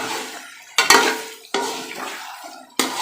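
Tomatoes and chicken masala with bhindi being stirred in a cooking pot, village style: four close, scraping strokes, each starting sharply and fading, with a soft sizzle underneath.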